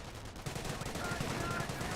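Bren and Sten carriers firing machine guns in Company of Heroes, with rapid, rhythmic bursts of automatic fire rattling steadily at close range for the whole stretch.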